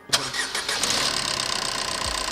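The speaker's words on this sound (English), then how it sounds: "Start the engine" A car engine cranks briefly and catches, then settles into a steady, close idle with a faint rhythmic ticking, during an emission test with a smoke meter.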